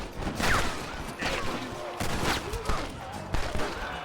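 Several sharp gunshot bursts from Red Dead Redemption pop in quick succession against busy game background noise, with a few louder cracks near the end.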